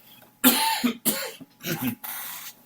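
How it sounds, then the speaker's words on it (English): A man clears his throat several times in quick, raspy bursts, close and fairly loud, with short pauses between. "I've got to clear my throat"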